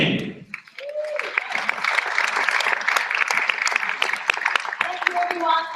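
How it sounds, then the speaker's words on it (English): Charity talent show audience applauding as a presenter is welcomed onstage, loud dense clapping with some cheering running through, a brief voice at the start and tonal cries over the crowd. "A warm round of applause for"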